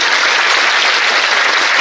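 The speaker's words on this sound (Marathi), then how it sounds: "टाळी वाजवा लवकर बांधा." Audience at a comedy kirtan in a Maharashtra village clapping loudly and steadily, a dense burst of applause close by.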